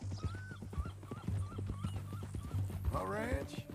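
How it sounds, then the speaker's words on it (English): Horse hooves clip-clop steadily in the video game Red Dead Redemption 2, a regular beat of hoofbeats running under a continuous low drone, with speech and a brief neigh-like cry near the end. "That a new horse?"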